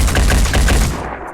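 A single loud, close gunshot from the squad-tactics game Phoenix Point, a sharp crack with a brief rough tail that fades out within about a second.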